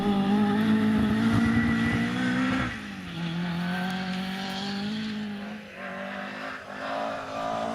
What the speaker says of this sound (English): you can hear the engine working hard as he pushes the car.